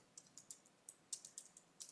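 Light, quick keystrokes on a computer keyboard tap out a short irregular burst of clicks, close and quiet against a faint hiss with no voices.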